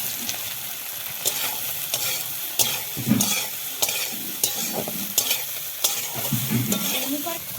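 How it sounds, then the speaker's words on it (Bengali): Soybean chunks coated in turmeric and salt fry in a kadai with a soft continuous sizzle, punctuated by repeated sharp scraping and stirring clicks at irregular intervals. "এখন সয়াবিনটা ভেজে নেব"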